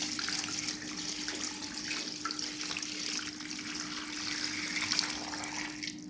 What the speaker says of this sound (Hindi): मैंने पानी डाल दिया।